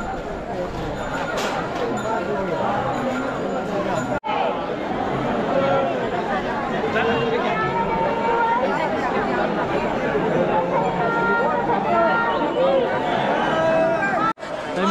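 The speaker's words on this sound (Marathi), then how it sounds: "खूप गर्दी आहे" Dense crush of pilgrims at the Pandharpur Vithoba temple during the Ashadhi Wari, a steady close wall of crowd chatter and murmuring voices throughout, with a couple of brief dropouts.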